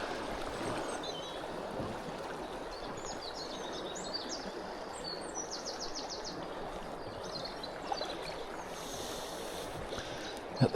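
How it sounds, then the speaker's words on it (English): Fast-flowing water in a river pool where wild brown trout are fished in April, a continuous broadband rushing close by with faint bird chirps above it and no talk. "I think it might be worth just trying this fast flowing water."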